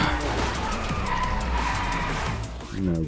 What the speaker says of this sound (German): Aber doch interessant, wie er anfängt zu driften